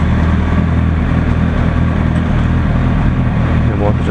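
Warmed-up Yamaha R1 motorcycle engine idling at 68 °C with 161,000 km on it, a steady loud low rumble that runs throughout with no pauses.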